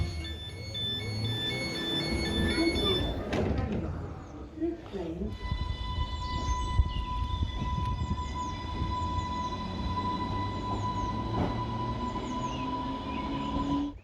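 A train on the old Ryde to Ventnor line on the Isle of Wight runs with a steady rumbling roll and some high tonal whine, someone narrating over it throughout.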